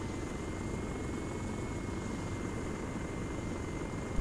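Helicopter in the military shooter Arma 3, a steady continuous rotor and engine drone held at an even level throughout, with no speech over it.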